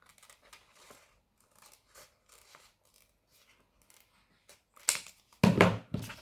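Scissors snip through scraps of heat-transfer vinyl in a series of short, quiet, crisp cuts, then a louder crinkling rustle of the sheets being handled near the end, close by and without talk.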